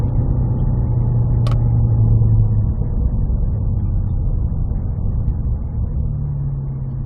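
Cadillac V performance cars on a race track, heard as a loud, steady low engine rumble from inside the cabin that eases slightly as the car slows, with one brief sharp click partway through.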